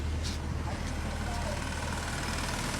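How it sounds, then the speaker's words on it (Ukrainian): An Audi A7 idles while warming up outdoors in cold weather, its engine giving a steady, even low rumble with a broad hiss that continues unchanged throughout. "Дивіться, як моторчик не колбасує."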